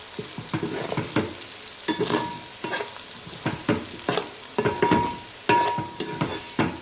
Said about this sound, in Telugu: దీన్ని మంచిగా కలుపుకుందాం